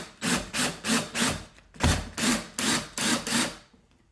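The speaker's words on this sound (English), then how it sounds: "screwing at an angle." A screw is driven at an angle through a metal electrical box into a wooden wall stud, giving a rhythmic series of about ten short grinding bursts in close succession, loud and near.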